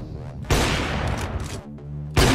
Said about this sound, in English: Literally the most powerful sniper rifle in the game